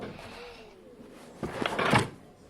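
A household drawer is pulled open and pushed shut in a quiet room, giving a short cluster of sliding knocks and a soft thump near the end over low background hiss.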